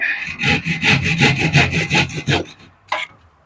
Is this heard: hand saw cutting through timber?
yes